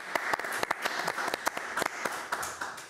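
Sparse audience applause at the opening of a Dutch media week event, a modest scatter of separate, distinct hand claps at an uneven rhythm, fairly quiet and thin rather than a full ovation.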